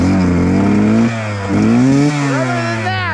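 A 2021 KTM 125XC two-stroke dirt bike with a JD jet kit idles loudly and close, then revs up and down in several short rising and falling bursts with a buzzy, harmonic-rich tone.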